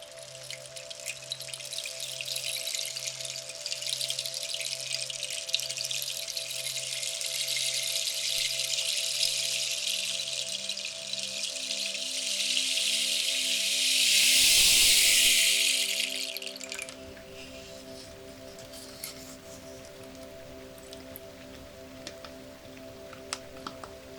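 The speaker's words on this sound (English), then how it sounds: "Rain stick in the rain." A rain stick is tilted in a soft-spoken setting, and its fine cascading patter of beads streams continuously like light rain. It swells to a louder rush partway through, then fades over quiet sustained tones.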